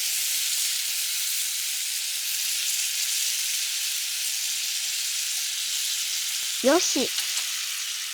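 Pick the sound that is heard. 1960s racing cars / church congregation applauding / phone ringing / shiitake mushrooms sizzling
shiitake mushrooms sizzling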